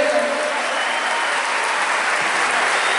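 Loud, dense audience applause at a concert at the National Guitar Festival in Argentina, a continuous roar of clapping held at steady level, close and full throughout.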